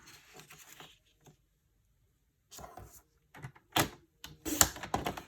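A paper trimmer slices through sheets of patterned designer paper in a few short, crisp bursts, each a quick scraping cut with light handling rustle, heard close up.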